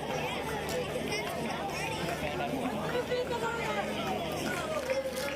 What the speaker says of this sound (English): Huge crowd on hand for this one at Volunteer Stadium